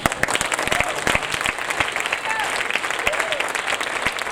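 Sustained applause from a church conference audience, dense clapping throughout with scattered louder claps and some voices underneath.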